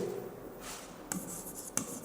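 Pen or marker strokes on a board or paper while a chemical equation is written, a soft close scratching with a couple of sharper taps, no voices.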